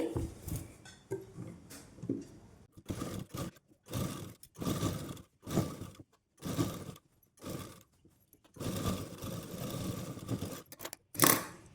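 Sewing machine stitching a petticoat, running in repeated short bursts of rapid mechanical whirring separated by brief pauses, close and fairly loud.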